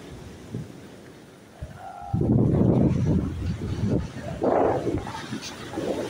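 Strong wind roars and buffets the microphone in gusts, with waves surging underneath, loud and close, on the coast of Jeju Island, South Korea.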